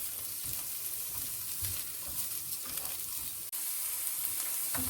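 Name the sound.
stir-frying quesadilla filling in a pan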